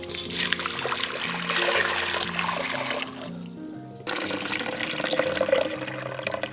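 Water being poured into a pickle brine of salt and sugar, a steady trickling splash that runs for several seconds with a brief quieter break before resuming, close and moderately loud.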